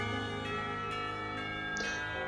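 A bell rings in the Katawa Shoujo video game, a sustained metallic tone with steady harmonics held over a tonal background, with a brighter strike near the end.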